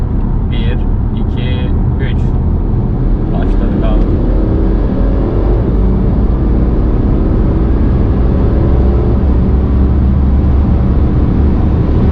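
A BMW Alpina D3 Bi-Turbo of about 1600 kg, fitted with a hybrid turbo, accelerates hard. A loud, continuous engine roar climbs steadily from inside the car for the whole stretch.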